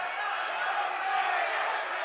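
A fight crowd roars wildly at a combat sports event, a dense, sustained wall of cheering and shouting at steady loudness, with no distinct single voices.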